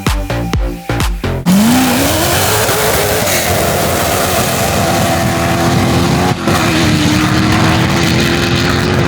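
A drag race car engine sputters and stutters in a few choppy bursts as it breaks up, then roars into a loud, sustained drone with rising pitch and brief dips.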